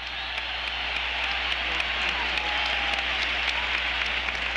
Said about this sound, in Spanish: Gran ovación a Lucho Reina